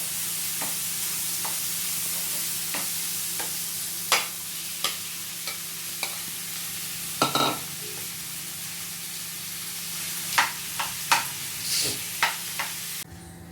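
Boiled potatoes stirred in a pan while frying for masala dosa, heard as scattered scraping stirs and clicks over a steady low sizzle, fairly close, with no voices.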